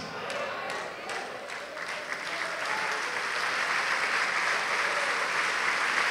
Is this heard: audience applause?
yes